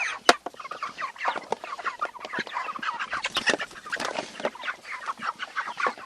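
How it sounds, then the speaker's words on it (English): Seven-week-old farm chickens cluck and squawk at feeding time, a busy overlapping flock chorus, moderately close, with one sharper squawk near the start. "These chickens are 7 weeks old tomorrow."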